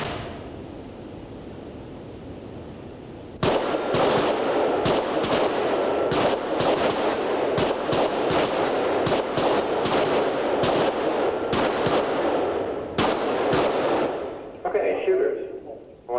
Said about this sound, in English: Okay, when the target's faced, I want you to draw and fire 6 rounds.